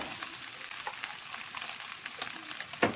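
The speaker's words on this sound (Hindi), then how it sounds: "2 मिनट हमने इस चिकन को भून लेना" Chicken frying in a pan gives a continuous close crackling sizzle with scattered pops and a brief louder scrape of stirring near the end.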